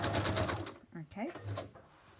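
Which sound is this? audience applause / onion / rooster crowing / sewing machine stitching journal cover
sewing machine stitching journal cover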